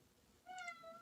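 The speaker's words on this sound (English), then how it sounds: "Yeah, I got one of my kitties." A pet cat meows, a quiet, slightly drawn-out call of about half a second against a faint indoor background, with a short second chirp at the end.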